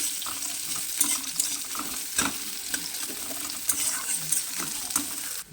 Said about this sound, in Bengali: পেঁয়াজটা একটু ভাজা ভাজা করে নিয়েছি